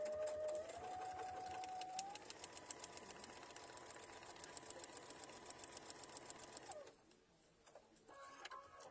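A sewing machine stitches quilt fabric for chevron blocks, running in a steady rapid whir for most of the clip before stopping near the end, leaving quieter room sounds.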